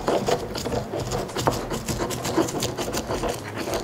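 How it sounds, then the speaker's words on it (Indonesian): Garlic ground in a mortar with a pestle for a cooking recipe, a quiet steady scraping and rubbing with soft rhythmic knocks, close up and alone. "aku mau ulek bawang putih, kayak garam, supaya gampang uleknya"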